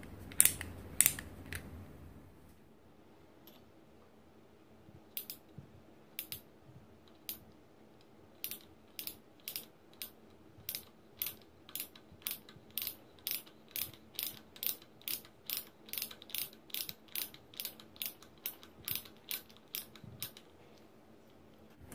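A ratchet T-handle tap wrench cutting an internal thread in a tight space clicks in a steady series of crisp, close ratcheting ticks after a brief handling noise, quiet otherwise and without talk.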